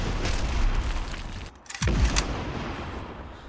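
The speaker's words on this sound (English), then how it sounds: "It's midday and our artillery have opened up in the German trenches." Artillery guns barrage German trenches at midday, a dense rolling roar of distant booms and rumbling blasts that dips briefly before one heavy thud swells the noise again.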